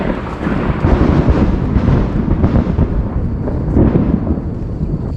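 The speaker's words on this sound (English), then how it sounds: "That was thunder and also lightning." Thunder rolls through a Sumatran jungle as a deep, continuous rumble, loud and close, filling the whole stretch with broad low noise and no voices.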